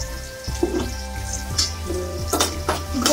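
Mustard seeds, urad dal, onion and tomato sautéing in a hot pan, with a low steady sizzle and occasional clinks and scrapes of a spoon against the pan, close and moderately loud.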